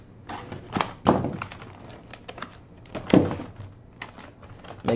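Packaging for a Harbor Freight Pittsburgh brake bleeder vacuum pump kit is cut open up close, with scattered rustles, thumps and crisp scraping bursts at an uneven pace.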